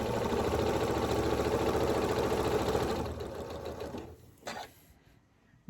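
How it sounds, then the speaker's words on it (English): A sewing machine stitching cotton and flannel quilt pieces corner to corner, a steady rapid mechanical whir for about three seconds that slows and fades, then brief stops and a short final burst. "then I'm going to just stitch again, corner to corner"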